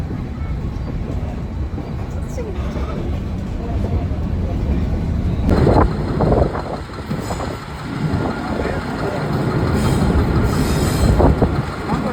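The Ooty toy train rumbles steadily along the tracks, heard from inside a carriage by a window seat, with occasional squeals and clatter from the wheels.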